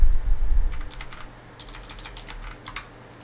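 A command typed on a computer keyboard, a run of crisp separate key clicks after a low rumble at the start, close and clear with no talk.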